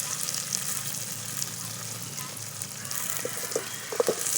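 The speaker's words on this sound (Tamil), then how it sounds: "வெங்காயம், பச்சை மிளகாய் போடுறோம். கிண்டி விடு." Onions and green chillies sizzle softly in a pan during outdoor village cooking, with a few light stirring clinks near the end; moderately close, no voices.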